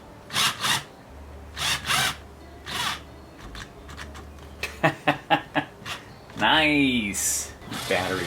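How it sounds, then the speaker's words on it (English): A corded power drill whirs in several short bursts with pauses between, followed by a longer whining run as it speeds up near the end, while working on Mazda RX3 rear-end parts. "Now I have to use power drill that has a cable."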